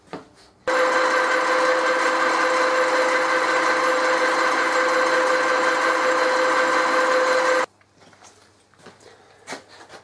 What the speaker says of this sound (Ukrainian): Коротше, сверлимо потихеньку.